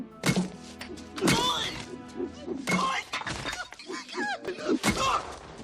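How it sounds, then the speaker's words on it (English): Bricks thrown from several stories up strike a man's head, giving several loud, sharp thunks and crunching impacts spread across the scene, with voices and music-like tones around them. "even to the point of being able to shrug off 4 headshots of bricks thrown at him from several stories up"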